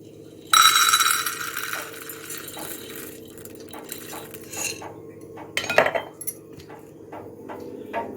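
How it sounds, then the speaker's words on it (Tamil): Half a cup of peanuts is tipped into a cup in a home kitchen, making a sudden loud rattling clatter followed by scattered lighter clinks and taps of kitchenware. "அரை கப்பு வேர்க்கடலை போடுறேன்."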